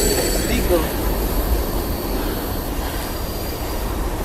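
A train rolls past close by with a steady heavy rumble and faint wheel squeal, the noise continuous throughout with little else audible.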